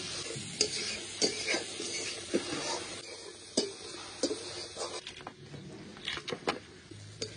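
Spice paste of dried red chilli powder, coriander powder, turmeric and salt with tomato, stirred and sautéed in a pan for a Bengali fish egg curry, with a steady sizzle broken by repeated scraping stirs, close and alone.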